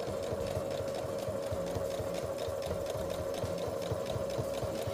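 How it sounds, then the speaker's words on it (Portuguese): Sewing machine running steadily as it stitches a new seam directly over an old one while joining fabric squares, a continuous fast mechanical whir with rhythmic needle chatter, close and alone. "a costura nova de agora vai passar bem em cima da outra costura que a gente fez para fechar o quadrado"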